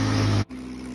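A 2005 Ford Focus engine with an exhaust manifold problem runs loudly with a steady, harsh drone that cuts out abruptly for a moment and then returns at a lower, rougher idle. The engine is close by and no one talks.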